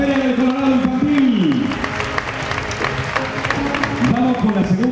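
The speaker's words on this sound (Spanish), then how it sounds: "un fuerte aplauso para ella" An audience applauds at a spring fair in Conil, a dense patter of clapping mixed with crowd noise, while someone speaks loudly over it on an amplified microphone.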